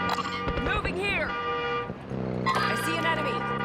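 Car horns in the video game DMZ, honking in a couple of short bursts mixed with other game sounds and talk over the top.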